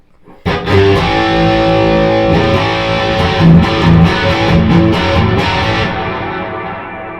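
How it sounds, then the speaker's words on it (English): A loud, distorted 1978 Gibson RD electric guitar rings out with a wash of heavy reverb, sustained chords blurring together before slowly fading. "That is a lot of reverb."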